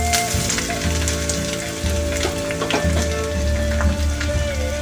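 Grated ginger dropped into hot oil for a vegetarian navratan korma, giving a close, continuous crackling sizzle with scattered popping bursts and faint utensil clinks throughout.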